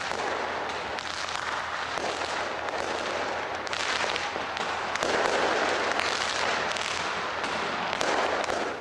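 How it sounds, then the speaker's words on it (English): Fireworks burst from Auckland's Sky Tower at midnight for New Year 2025, a dense, continuous barrage of crackling and booming explosions that stays loud throughout without pause. "New Zealand was among the first to welcome 2025 with a stunning fireworks display from Auckland's Sky Tower as the clock struck midnight"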